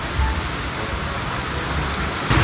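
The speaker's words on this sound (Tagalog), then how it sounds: "Hindi naman ganoon kalakas ang ulan dito sa atin" Steady rain pours down during the rainy season over a hillside above wide rice fields, a dense, even hiss close by with no pauses, briefly heavier near the end.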